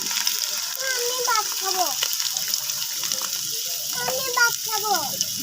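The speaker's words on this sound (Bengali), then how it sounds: "আমি এখন এগুলো সবগুলো বেজে নিব" Potatoes, cauliflower and cabbage frying in a pan give a steady, moderate sizzling hiss throughout, with bird-like chirps scattered over it.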